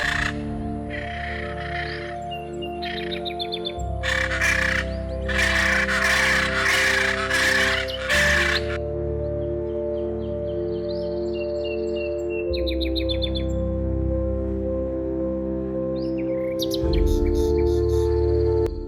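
Loud harsh squawking calls of a macaw ring out in bursts over a steady droning background of insects and music in the Amazon rainforest of Peru, with several raucous cries spaced across the stretch.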